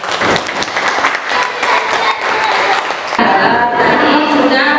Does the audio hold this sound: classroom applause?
yes